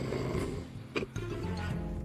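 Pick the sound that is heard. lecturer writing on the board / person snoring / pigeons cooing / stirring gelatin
person snoring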